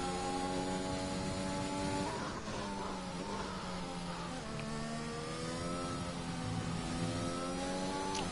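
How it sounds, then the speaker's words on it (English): An Aston Martin race car on an out lap in a racing video game at a Belgian circuit runs with a loud, steady engine drone that revs up and eases through shifts, with no talk over it. "Cam Dowd's on an out lap in his Aston Martin"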